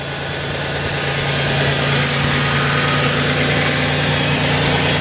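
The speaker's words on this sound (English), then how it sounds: "I'll let you listen to the exhaust here. It's kind of cool. It raps a little bit." Steady, loud idle of a 1952 Chevrolet Bel Air engine heard close to the exhaust, a continuous rumbling note with a slight rapping pulse and no voices.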